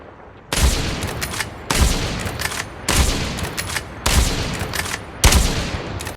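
Bursts of rapid continuous gunfire from a bolt-action weapon in a shooter video game, five loud strings of shots about a second apart, each separated by brief pauses.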